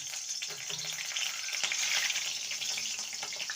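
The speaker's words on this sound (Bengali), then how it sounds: "লঙ্কাটাকে একটু ভেজে নেব" Two split green chilies frying in oil with fragrant tempering spices, giving a dense, continuous close sizzle with faint spoon stirs and no talking.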